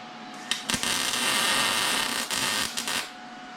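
A tack weld being laid on the frame of a 600cc street kart, heard as a loud, close, steady crackling buzz that starts abruptly and lasts about two and a half seconds before cutting off.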